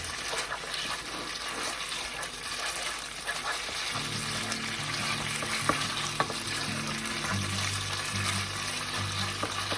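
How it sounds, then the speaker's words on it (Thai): Pork noodles stir-fried with dark soy sauce for a rad na dish, making a continuous close sizzle with stirring scrapes, joined partway through by a low steady hum. "เราก็ใส่ซีอิ๊วดำลงไปเลย เห็นไหมครับสีเริ่มเปลี่ยน"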